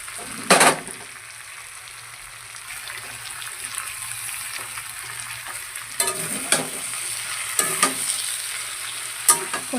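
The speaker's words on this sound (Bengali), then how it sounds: "পনিরটা দিয়ে ভালো করে কষিয়ে দেবো জল।" Paneer cubes sizzling in a hot pan while a spoon stirs them, giving a soft steady fry with a few sharp scraping clinks near the start and later in the clip, and no talking.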